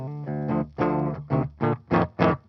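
Electric guitar played through the clean channel of a Brunetti amp, a short run of clear strummed chords and single plucked notes rising in pitch, close and alone without talk.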